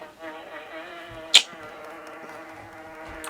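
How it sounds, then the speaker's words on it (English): A bee buzzes around a room, a faint, continuous drone with a harmonic whine that holds steady throughout, broken by one brief sharp knock near the middle. "Now there's a bee buzzing all around."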